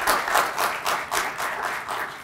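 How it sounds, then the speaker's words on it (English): An audience applauds at an evening event with a state senate leader, many hands clapping in a full, loud burst that swells in loose rhythmic waves. "So let's just give a round of applause to the center."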